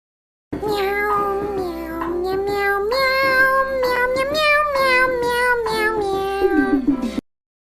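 A close, loud cat yowls in a long run of drawn-out, wavering meows, with no voices over it, ending suddenly.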